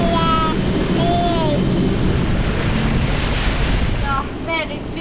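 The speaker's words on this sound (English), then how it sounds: "The last 30 miles have been upwind sailing, bashing into it." A sailboat beats upwind through rough seas, strong wind buffeting the microphone over continuous wave rush and hull noise, loud and close, with brief whistling tones cutting through.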